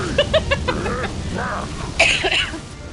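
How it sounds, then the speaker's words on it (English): A few short, harsh coughs and throaty sounds close to the listener, clustered in quick bursts over a couple of seconds. "Sorry about the coughing"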